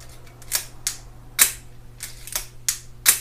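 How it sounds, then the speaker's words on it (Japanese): A Leica M3 rangefinder camera's shutter, set to 1/500, fires several times in sharp close clicks, each crisp snap followed by a brief mechanical rattle, spaced irregularly over a few seconds. "今500、高速側のシャッターも開いてますね"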